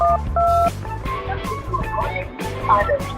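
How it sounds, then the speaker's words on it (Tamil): A mobile phone number is keyed in, and short electronic keypad tones beep one after another at a steady pace. They sit close and loud over background music and some faint talk. "நான் என்னோட மொபைல் நம்பரை லாஸ்ட் நம்பரை மாத்தி போட்டு போன் போட்டு பாப்போம்"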